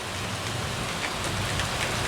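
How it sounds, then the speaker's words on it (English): Steady rain falls on a pile of collected dirt outdoors, a dense continuous hiss of drops on the surface with no pauses, loud and close throughout. "I'm just allowing the rain"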